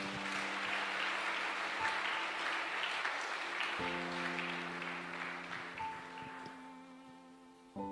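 A church congregation applauds after a scripture reading, a broad, steady wash of clapping that fades gently toward the end while organ or keyboard tones hold underneath.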